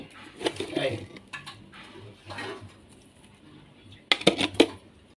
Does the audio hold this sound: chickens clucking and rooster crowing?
no